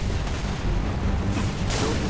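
Gunfire strikes the player in the video game Halo: Reach, a dense barrage of booming, rumbling impacts with a bright burst near the end, loud and continuous with no talking.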